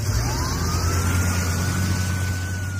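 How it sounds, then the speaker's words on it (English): A police car siren wails with a slow rising tone over a loud, steady engine rumble, sounding close and continuous. "Siren blaring, the squad car speeds over to the mole's dimly lit apartment."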